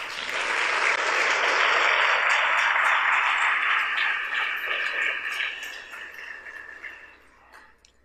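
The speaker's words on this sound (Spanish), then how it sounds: "Dele un aplauso al Señor." A church congregation applauding together, a dense, loud burst of clapping that holds steady for several seconds, then thins and fades toward the end.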